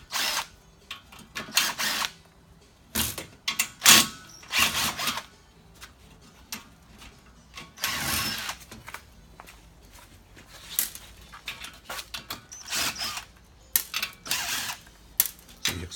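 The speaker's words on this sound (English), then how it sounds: "we remove those screws and make this adapter smaller" Cordless drill backing out screws from a sheet-metal plenum adapter for an air handler, in several short bursts of whirring separated by pauses and light handling clatter.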